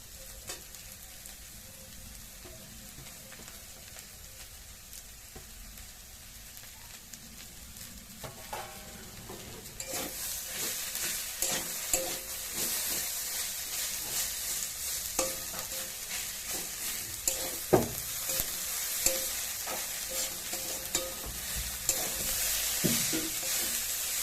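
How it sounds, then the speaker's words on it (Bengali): Fish roe, ridge gourd and potato fry in a pan, a quiet sizzle that grows louder and busier partway through, with frequent scraping and clinking as they are stirred, no talk. "মোটামুটি হালকা ভাজা হয়েছে এর মধ্যে এবার আমি পেঁয়াজটা দিয়ে দেবো"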